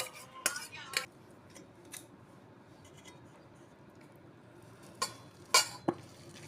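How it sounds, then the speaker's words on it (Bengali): A wooden hand churner works cream into butter for homemade ghee, giving sporadic sharp clacks and knocks against the vessel, close and loud, with quieter stirring in between. "এখানে আমার মা ব্যবহার করছে কাঠের ঘুটনি"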